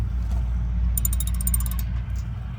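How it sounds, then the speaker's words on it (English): A ratchet wrench fitted with a 1/2 inch socket tightens a nut onto a post bolt, giving a fast, close run of sharp clicking pawl ticks over a steady low background hum. "And then I have my socket set, and this is a 1/2 inch socket piece."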